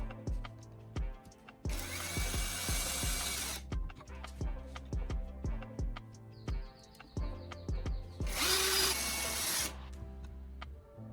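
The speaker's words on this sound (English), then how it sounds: "I'm attaching each L bracket to the corners of the base using screws and my drill." A cordless drill whirs in two bursts driving screws through L brackets into a base's corners, between knocks and clatter, close by, with faint bird chirps in the background.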